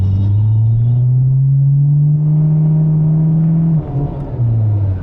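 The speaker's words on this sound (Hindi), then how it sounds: "ये रेड लाइट ग्रीन हो गई है and I am going to launch it now" A Maruti car launches hard from a traffic light, its engine rumble loud and steady, rising in pitch as it accelerates before a brief dip near the end, then pulling on again.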